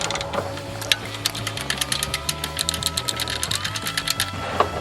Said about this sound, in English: Now we just need to loosen these bolts off so we can drop the subframe.